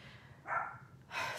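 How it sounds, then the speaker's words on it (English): Dogs barking outside an office door, two muffled, fairly faint barks spaced apart against a quiet room. "my family can't seem to keep the dogs in the house. So now they're outside of my door barking."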